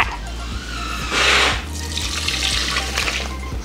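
Tempered egg yolk and cream mixture poured back into a hot saucepan, a close, steady liquid pour and splash lasting a few seconds with faint clinks, no talking.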